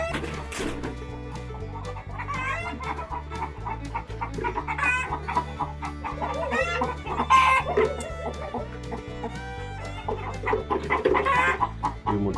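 Several chickens cluck and squawk continuously up close, with a rooster's crowing rising over the busy, overlapping clucking.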